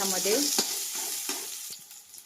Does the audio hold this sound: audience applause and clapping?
no